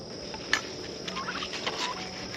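Chickens in a summer backyard garden give short, clucking and gobbling poultry calls, a few scattered notes rising over a steady outdoor background hiss.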